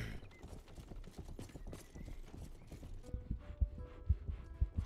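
Horse hooves clip-clopping at a walk in the medieval video game Rustler, a fairly soft irregular series of thuds that grows more distinct and punchy toward the end.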